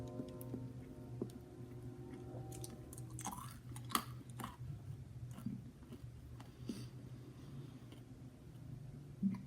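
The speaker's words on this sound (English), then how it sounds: "every time I chewed it, it didn't break it down. It just multiplied." Chewing of a tough mouthful, faint close wet smacks and crunches in an irregular rhythm, with no talking.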